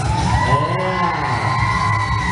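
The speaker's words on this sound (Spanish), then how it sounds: "El grito de las mujeres." Women at a quinceañera party let out a loud, rising group shout, a sustained whooping yell that stands out over the crowd.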